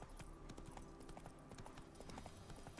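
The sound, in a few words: horse hooves galloping in the video game The Witcher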